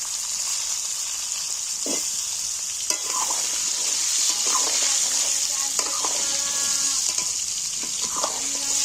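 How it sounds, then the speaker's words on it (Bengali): Whole potatoes frying in hot oil with salt and turmeric in a Bengali mutter aloo dish, a steady close sizzle broken by occasional stirring scrapes and knocks. "আলু আর নুন আর হলুদ দিয়ে দিন তেলের মধ্যে"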